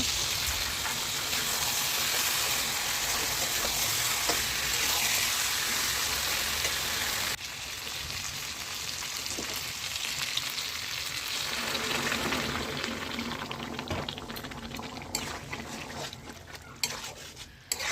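Meat with salt and meat masala powder is stirred in a sizzling pan, the frying hiss steady and close while the spoon scrapes and turns continuously, with no talking.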